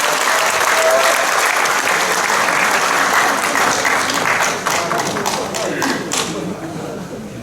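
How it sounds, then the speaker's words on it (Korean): Audience applause fills a conference hall in the National Assembly members' office building, steady and loud for several seconds before tapering slightly, with dense overlapping claps and no speech over it. "큰 박수 부탁드립니다."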